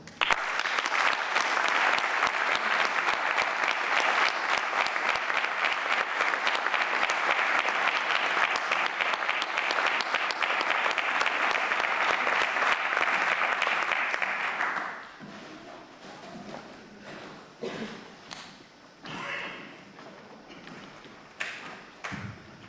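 An audience claps loudly and steadily to welcome a band at the Partíu Asturianista's 25th anniversary event, the dense applause holding for about fifteen seconds before thinning into scattered claps and murmurs.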